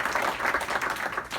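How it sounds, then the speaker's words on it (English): A round of applause at a leaving presentation, a short burst of dense clapping from a gathered group of colleagues in an indoor room. "And I think that deserves a round of applause."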